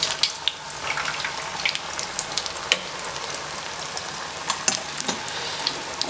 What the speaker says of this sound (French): mon huile est à environ 180 degrés. On va plonger les boules de pommes de terre.